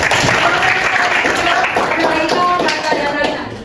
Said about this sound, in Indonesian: Semua boleh tepuk tangan.